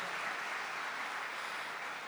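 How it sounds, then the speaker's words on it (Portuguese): An audience applauds at a church gathering with a steady wash of clapping that holds at an even level throughout. The applause sounds moderately distant, with no talk over it. "Uma salva de palmas para esse momento"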